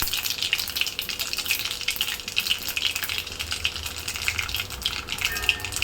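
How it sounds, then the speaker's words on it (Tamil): Mustard seeds, urad dal and fenugreek seeds spluttering in hot oil, a dense, steady crackle with rapid tiny pops that continues throughout, close and fairly loud, with no talking. "கடுகு பொரிஞ்சிச்சு."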